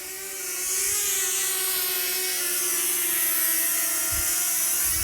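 A camera drone flies close to palm trees, its high, steady propeller whine droning continuously at close range with a slight pitch wobble.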